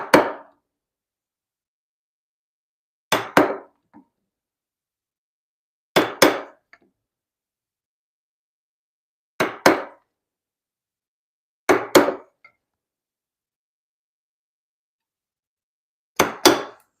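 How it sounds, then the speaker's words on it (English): A wooden mallet strikes a chisel, cutting a mortise in timber for timber-frame joinery. Six sharp, heavy knocks come a few seconds apart, each ringing briefly before silence, close and loud. "This is how I broke my last mallet."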